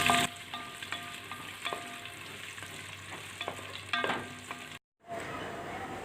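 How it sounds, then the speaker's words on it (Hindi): Whole garam masala and a large chopped onion sizzling in hot oil for chicken biryani, a continuous close frying hiss with light stirring clatter and a faint steady tone behind it, ending after a short break. "हम इसमें थोड़े खड़े गरम मसाले ऐड कर देते हैं। और साथ ही एक बड़ा कटा हुआ प्याज, इसको हम लाइट ब्राउन करेंगे।"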